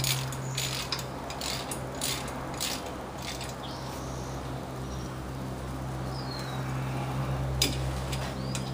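Brake bolts on a 2004 Toyota Sienna LE's right front brake are tightened by hand with a ratchet, a steady quick clicking close by over a constant low hum.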